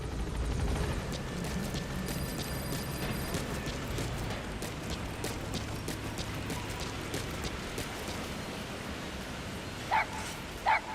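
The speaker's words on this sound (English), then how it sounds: "it's D-Dog, or DD as Ocelot calls him. He's still a puppy here" A puppy in the video game Metal Gear Solid V: The Phantom Pain gives two short barks near the end, over a quiet, continuous mechanical game ambience.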